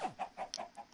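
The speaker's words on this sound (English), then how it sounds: "Come on, chicken." A chicken in a modded Minecraft FTB pack clucks about five times in a quick, evenly spaced series of short calls, close and clear, with no talking over it.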